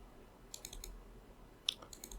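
A computer mouse is double-clicked at a desk: faint, crisp pairs of light plastic clicks in a quiet room, with no speech.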